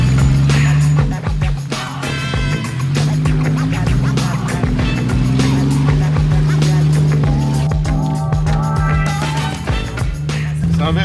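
A car engine running through a straight-through direct exhaust drones loud and close, its deep tone rising and falling through steady revs for the whole stretch.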